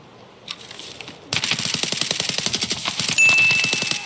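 Automatic gunfire in the shooter game Escape from Tarkov, starting with a lone distant shot, then a long rapid stream of loud, evenly spaced shots lasting several seconds.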